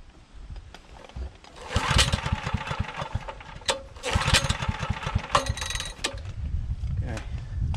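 Small gas engine fitted with an aftermarket fuel tank runs with the choke at half, sputtering and surging unevenly with sharp mechanical clatters and bursts over several seconds.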